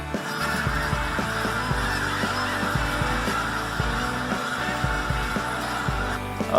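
A huge wintering flock of snow geese honks continuously, a dense chorus of overlapping nasal calls from many birds at varied distances, loud and unbroken with no talking.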